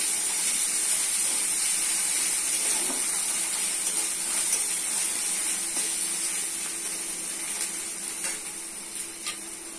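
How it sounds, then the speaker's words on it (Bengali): Onion, ginger and garlic paste sizzles steadily in a hot pan, a continuous bright frying hiss with faint crackles and occasional stirring, close and fairly loud, easing slightly toward the end, with no talking. "ভালো করে কষে নিতে হবে।"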